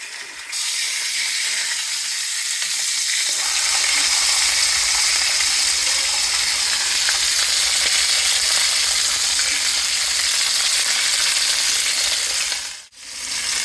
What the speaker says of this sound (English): This the first batch that's finished searing. Now we're gonna sear some more.